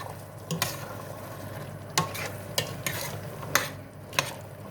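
Chicken and chickpeas sautéing in a pan, a low sizzle broken by five or six sharp stirring scrapes and clinks at irregular intervals, close and moderately quiet with no talking.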